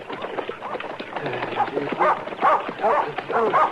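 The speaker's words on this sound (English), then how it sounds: "Get away, dog." A dog barks in short yips and whimpers repeatedly, loud and close, in a Western radio drama scene, with the barks growing more frequent toward the end.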